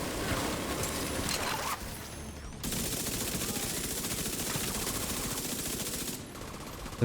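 Rapid sustained submachine gun fire from the Backfire SMG in the shooter game The Division 2, dense continuous bursts with brief breaks, loud and close, with a faint voice partly under it.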